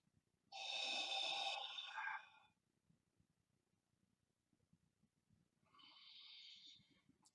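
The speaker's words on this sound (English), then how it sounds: "I'm breathing in." Exaggerated, noisy qigong in-breath drawn slowly through the mouth, a long hissing inhale of about a second and a half, then a quieter second breath after a pause, close and alone in a quiet room.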